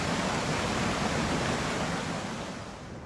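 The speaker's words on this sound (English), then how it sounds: "a raging river roaring down that stretch of valley" A raging river released from an emptied dam rushes down a valley, a loud, continuous broadband roar of churning water that fades slightly toward the end.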